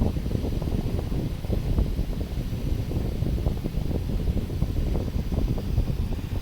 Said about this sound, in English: So you just have to put up with the fan noise.